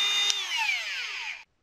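A DEPSTECH handheld rotary multitool with a drill bit attachment runs into wood, giving a steady high-pitched whine whose pitch slowly falls under load before it cuts off abruptly, close and alone.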